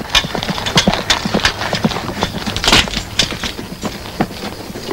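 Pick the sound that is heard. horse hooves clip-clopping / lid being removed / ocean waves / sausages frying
horse hooves clip-clopping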